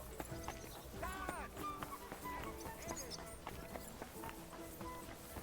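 Horse hooves clip-clopping in the medieval game Kingdom Come Deliverance 2, a steady galloping beat with an occasional whinny, set amid game music and background ambience.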